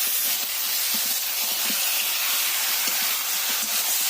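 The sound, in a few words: marinated chicken added to frying onion and tomato, sizzling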